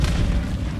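A Confringo blast spell explodes in Hogwarts Legacy, a single loud, deep, rumbling boom that fills the whole moment with heavy low-end force and no voices.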